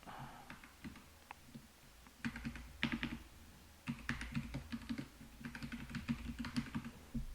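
Fingers type code on a computer keyboard in a quiet room, with uneven bursts of soft, close key clicks, sparse at first and then quicker and denser.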